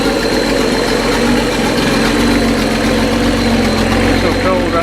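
Datsun 260Z with an L28 engine running and warming up on a cold day, a steady close rumbling idle that holds an even, loud drone throughout.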